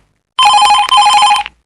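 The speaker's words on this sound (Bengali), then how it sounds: "হঠাৎ দেখি ফোনটা বাজতে শুরু করল।" A landline telephone rings in a quiet flat, one loud, continuous burst of bright electronic ringing for about a second, heard alone before falling silent.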